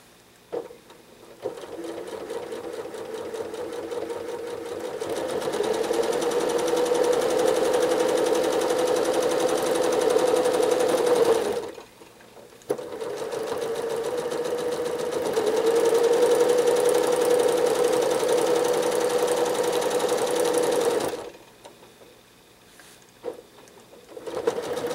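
A sewing machine doing free motion quilting hums with a rapid stitching rattle, speeding up and slowing down in two long runs separated by short pauses, close and steady.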